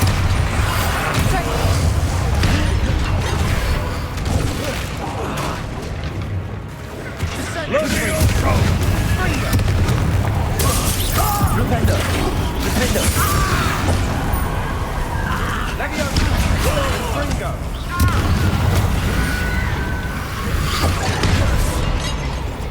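Bombarda spell blasts in the Hogwarts Legacy game during a hard final battle, repeated booming explosions and crashing impacts amid combat noise, with voices speaking over them.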